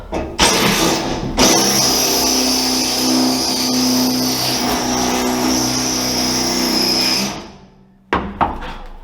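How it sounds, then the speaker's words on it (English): A power drill bores through sheet metal on a Nashorn Sd.Kfz. 164 tank destroyer, whining steadily and loudly for several seconds after a short start, then stopping, followed by a couple of clunks. "So we use the drill."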